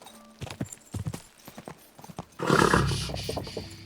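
Horse hooves clip-clop in the video game Kingdom Come Deliverance 2, a run of separate footfalls followed by a louder, denser burst of galloping and rustle.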